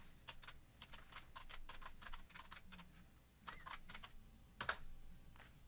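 Someone types a building name on a computer keyboard, a run of quick, light, irregular key clicks with a few louder taps, close and quiet, with no one talking.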